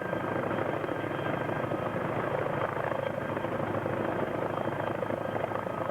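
A helicopter hovers over difficult terrain during a rope extraction of a recon team at Camp Lejeune, North Carolina, in 1992, its rotor and engine giving a steady, close, throbbing roar that never lets up.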